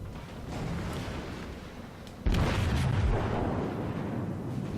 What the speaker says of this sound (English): There's an enemy battleship off there shooting at me, but it's firing high explosive.